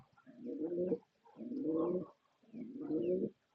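Danish pigeons, a male and female pair of fancy birds, give three low, resonant coos in steady rhythm, close and clear with no talk over them.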